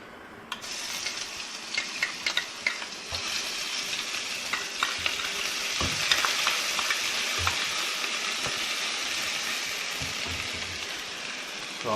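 Ginger garlic paste hits about four spoons of hot oil for a green chilli pickle, giving a dense, steady sizzle with faint stirring scrapes throughout.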